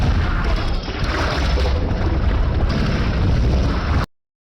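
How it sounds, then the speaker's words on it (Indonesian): Loud explosion of lit explosives in a pirate action movie, a dense roaring blast that fills the whole clip for about four seconds before cutting off abruptly, with no talk over it. "Akibat ledakan tersebut"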